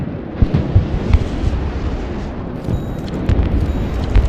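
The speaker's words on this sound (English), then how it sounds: "Another volley of ballistic missiles!" Ballistic missile volley striking in the war game Broken Arrow, a dense, rumbling roar of overlapping blasts with scattered sharp cracks, loud and continuous throughout.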